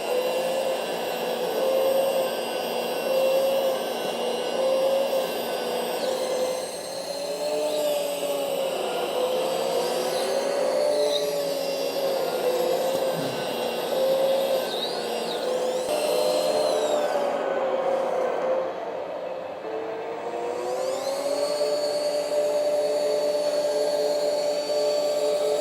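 Simulated engine sound from a wheeled 1/14-scale RC excavator runs as a steady droning hum, with pitch shifting as the model works, close and alone without talk.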